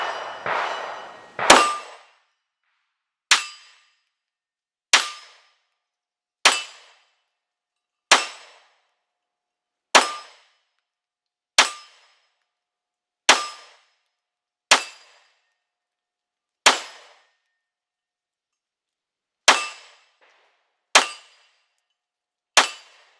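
Fifteen pistol shots are fired through a Primary Machine Stealth Comp. Loud, sharp reports come one at a time at a steady, unhurried pace, each followed by a brief ring and separated by silence.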